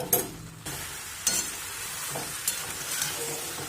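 Potatoes fry in a pan with sugar and salt for aloo dum. A spatula scrapes and stirs in a few distinct strokes over a soft, steady sizzle.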